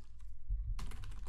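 Someone types a web address on a computer keyboard, a short quick run of close, quiet keystrokes after a moment of near silence, with no talk.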